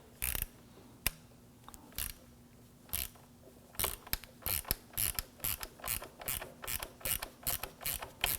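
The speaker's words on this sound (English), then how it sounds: "We're going to use a 5/16 socket to loosen and remove the anchoring screw here." A 5/16 socket on a ratchet loosens the anchoring screw on the intercooler of a 2015-2020 Ford F-150 2.7L V6. Crisp, close ratcheting clicks come in short, evenly paced bursts that speed up toward the end, with no talking.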